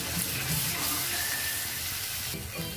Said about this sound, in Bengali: এরপর মশলাটাকে আমি খুব ভালো করে কষিয়ে দেব।